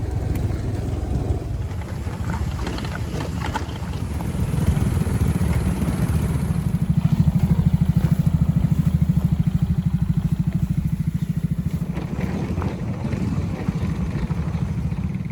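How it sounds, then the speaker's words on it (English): About a dozen motorbikes ride out toward the mountains, engines droning and revving in a steady throbbing pulse that swells louder midway as the bikes pass close, then eases back. "set out for the mountains on their motorbikes"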